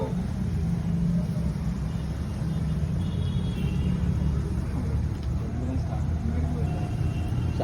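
A new scooter's engine idles and runs at close range with a steady low rumble and no clear revving, while people talk over it throughout.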